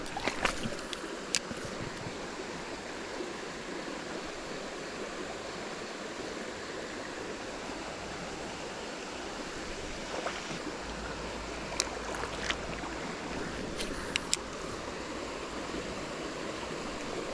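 A trout creek flows toward a waterfall with a steady, soft broadband rush of water, fairly faint, with occasional small clicks and splashes and no talking.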